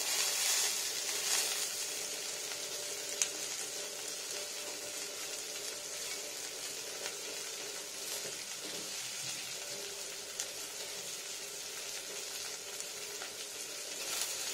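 Curry leaves, green chillies and beetroot fry in oil for a potato chop filling, a soft continuous sizzle heard close and steady throughout with a few faint stirring touches.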